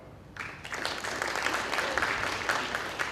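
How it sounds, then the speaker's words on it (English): A conference audience starts applauding abruptly, a moderate wash of clapping that builds quickly and stays fairly even, somewhat distant in the hall. "Show of applause if you think it's white."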